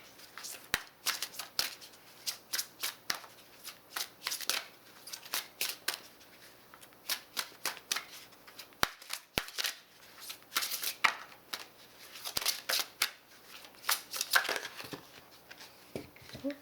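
Oracle cards are shuffled by hand in an irregular run of soft, papery riffles and flicks, close and alone with no voices.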